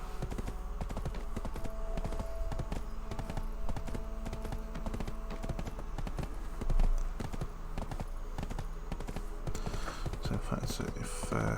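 Horse hooves clip-clop in a steady trotting rhythm while riding in Black Desert Online on PS4, with a person talking over the sound throughout.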